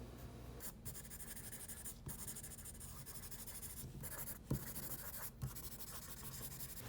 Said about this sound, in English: I'll just put the stitching on and I'll come right back.